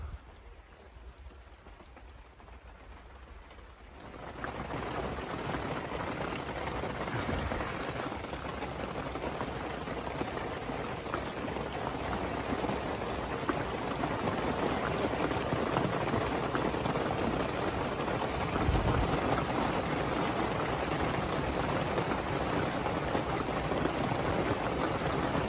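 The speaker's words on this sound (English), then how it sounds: "The rain has just started." Rain begins falling at a woodland debris camp, a steady wideband patter on surfaces that builds in after a few seconds of quiet and stays constant, close and moderately loud, with no voices.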